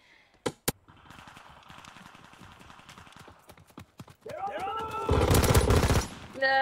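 Gunfire in the Call of Duty video game during multiplayer play: scattered sharp shots and rapid clicking patter, then a loud sustained burst of firing near the end.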